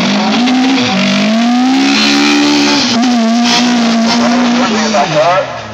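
Hill climb race car approaching at a car show, engine loud and sustained throughout with rising and falling revs and gear changes, close and continuous, with a voice faintly talking underneath.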